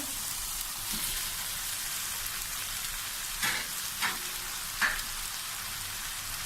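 Chicken and vegetables frying for chicken chow mein, a faint, steady rain-like sizzle with a few brief scraping stirs near the end, no talking.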